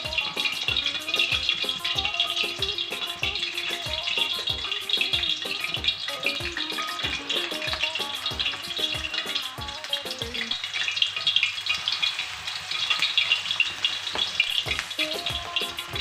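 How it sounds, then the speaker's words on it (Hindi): Onions sizzle steadily in hot oil for a Pakistani mixed vegetable dish, a dense bright crackle throughout with a regular rhythmic tapping of a spoon stirring the pan. "इसमें हम प्याज ऐड करेंगे, और इनको हम हल्का सा फ्राई करेंगे"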